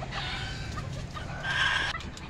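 Agitated chickens, including a rooster, clucking and squawking up close during an attack, with a louder burst of calls near the end.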